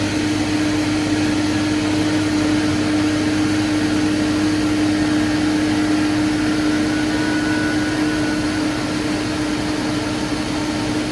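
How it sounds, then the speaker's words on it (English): A refrigerant recovery machine purging during freezer service runs as a loud, steady mechanical drone with a constant hum, with no change or pause throughout. "Set this to purge. Purge out our machine."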